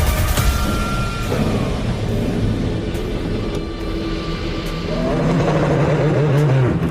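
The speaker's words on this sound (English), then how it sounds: "Race has started behind the safety car." Field of endurance race cars at the 2020 6 Hours of Spa, pulling away behind the safety car: a steady blend of engine drone and tonal whine, with a fuller, louder surge of engines in the final seconds.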